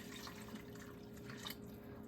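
Tap water running steadily into a cooking pot on a home kitchen stove, being filled to the level for chicken soup dumplings; a soft, continuous trickle and splash, fairly faint and close, with no talking.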